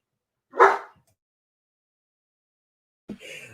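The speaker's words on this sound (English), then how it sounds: "We've now had multiple dogs join the show." A dog barks in a room during a podcast recording: one short, clear bark close by, then silence, then a second bark that trails off at the end, with no talking.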